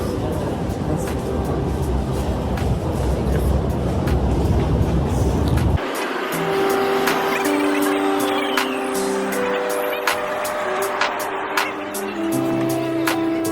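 Steady rumble and rattle of a moving Tehran metro train on Line 5, heard from inside the car, with a sudden shift in the running noise midway and faint voices underneath.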